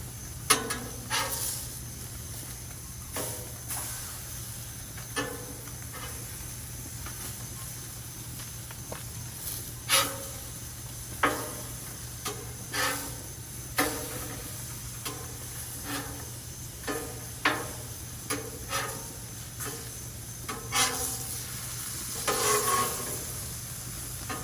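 Scallops sear on a Blackstone griddle with a constant close sizzle and hiss, broken by regular scrapes and taps of a spatula as they are flipped one after another.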